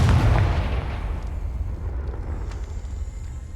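A Confringo blasting spell explodes in the Hogwarts Legacy video game, a single loud, close, booming burst that dies away into a low rumbling tail.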